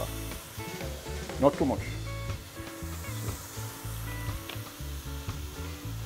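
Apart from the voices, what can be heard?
string beans frying in a pot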